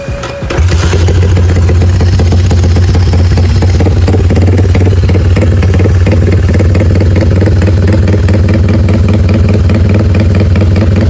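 A motorcycle engine starts up nearby and settles into a loud, steady idle with no throttle, its low rhythmic thrum running uninterrupted.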